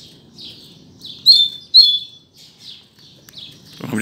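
Coleiro (double-collared seedeater) songbirds sing close by: short, high chirping phrases with two sharper, louder notes in the middle, heard clearly over faint background murmur.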